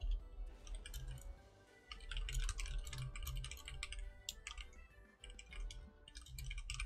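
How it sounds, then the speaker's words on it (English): Quick, close bursts of clicky keystrokes on a computer keyboard come in uneven flurries with short gaps between them, fairly quiet against a soft low background hum. "I'm typing with my tongue out of my mouth"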